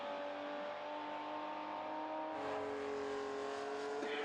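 A classic race car at the Estoril Classics pulls away and accelerates back into the race, its engine note holding a steady tone and then rising in pitch and level partway through, with no voices.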